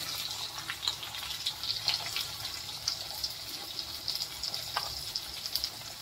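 Chopped onion frying in a pan for a Khandeshi matki dal, a steady close crackling sizzle with faint scattered pops, continuous and without talk.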